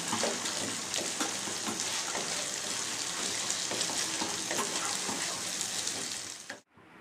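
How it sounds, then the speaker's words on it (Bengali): Eggs frying in a pan for Bengali-style egg tadka, a steady close sizzle with faint clinks of stirring that runs throughout and cuts off abruptly near the end. "দেখুন এটা যতক্ষণ ভাজা ভাজা হচ্ছে"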